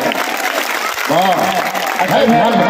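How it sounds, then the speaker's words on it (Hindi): Listeners at an All India mushaira in Sanhoula, Bhagalpur, break into loud, dense clapping while a voice speaks over the applause. "अगर सुन रहे हैं तो एक बार जोरदार तालियां बजा कर बताएं।"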